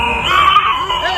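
A boy vocally imitates a lion with a single loud, strained, sustained roaring cry, brief and close.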